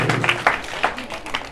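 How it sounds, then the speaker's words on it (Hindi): Short burst of audience applause at an Islamic quiz competition, scattered claps close by, fairly loud and brief, with no talk over it. "बिल्कुल सही जवाब है, तालियां हो जाएं"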